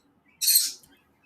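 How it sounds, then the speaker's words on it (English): A pet bird gives a single short, bright chirp indoors in a quiet living room, close and brief, with no talking. "So we're hanging out with my birds, with Emmy, Calypso, and Usagi."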